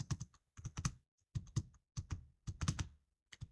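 Rapid keystrokes on a computer keyboard while text is entered into an Excel spreadsheet, coming in quick irregular bursts with short pauses between words, close and clear.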